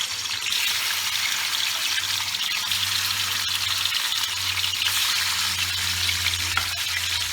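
Fresh snakehead fish sizzles in hot oil in a home kitchen, a steady loud hiss with a low hum underneath, running continuously without talk.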